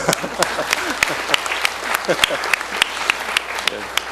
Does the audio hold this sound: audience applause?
yes